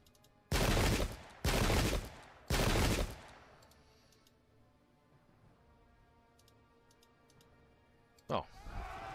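Three loud, sharp volleys of musket fire from English Civil War troops in the Pike and Shot video game, evenly spaced about a second apart, then a quiet stretch with faint ticks and one last short burst.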